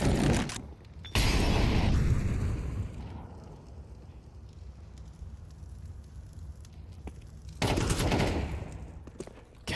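Gunfire blasts out in a Counter-Strike match at a pro esports event, two loud bursts of rapid shooting separated by a quieter stretch of faint background noise.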